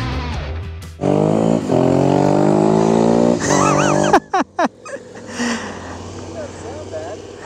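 A motorcycle with an aftermarket exhaust revs hard and climbs through several gears on a paved road, loud and close, then a few sharp throttle blips fade away; voices are heard briefly.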